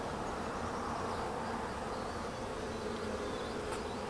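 A dense, steady buzz of many honeybees crowding a full hive frame during an inspection of a newly installed nuc, heard up close and continuous with no talking.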